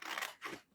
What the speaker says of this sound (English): just cut right down this